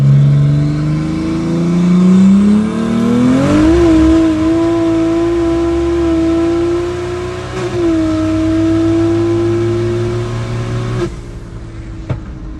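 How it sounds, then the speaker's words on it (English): A BMW M3 with an S58 engine built as a drag car launches and pulls down a quarter mile, its engine note rising steadily through gears with brief shift breaks, loud and then fading as it moves away. "completely incredible how fast they were able to get out of the hole and accelerate that car"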